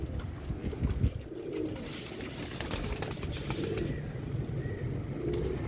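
Pigeons, red-eyed Kamagar and Dub Wale fancy breeds, coo softly in low repeated phrases, with brief bursts of wing flapping and rustling nearby.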